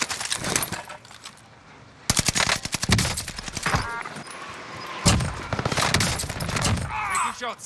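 Bren machine gun fire in Call of Duty Warzone on Rebirth Island: rapid bursts of automatic gunfire, loud and close, broken by brief pauses, with faint voices now and then.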